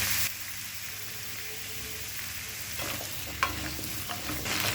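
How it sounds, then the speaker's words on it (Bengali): Vegetables with grated ginger are stirred in a pan over a high flame. A steady, close sizzle hisses throughout, broken by a few soft scrapes and clinks. "এবার গ্যাসটাকে হাই ফ্লেমে রেখে 2 থেকে 3 মিনিট নাড়াচাড়া করব"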